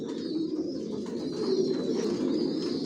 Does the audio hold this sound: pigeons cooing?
yes